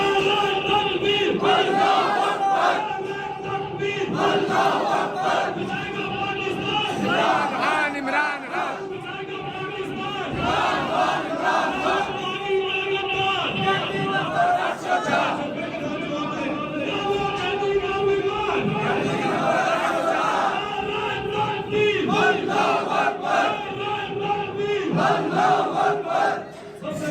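Crowd at a PTI youth convention rally in Islamabad chanting Takbir slogans in loud, rhythmic call-and-response bursts that repeat through the whole stretch, close and energetic.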